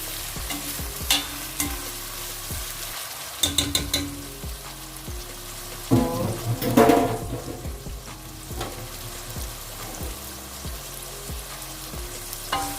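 Oil sizzles in a pan as bhindi and chicken are stirred and mixed, with a background hiss, repeated utensil scrapes and knocks, and a louder sputtering burst midway, close up, no speech.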